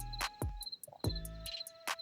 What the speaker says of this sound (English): Crickets again.